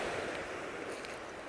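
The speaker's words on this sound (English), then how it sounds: "The beautiful waves. And the wind. A little bit loud." Ocean waves wash onto a beach under strong wind, giving a steady, loud rushing roar with wind buffeting the microphone and no talk.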